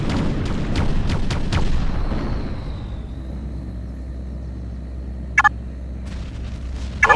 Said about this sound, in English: Area targeted for artillery moving out.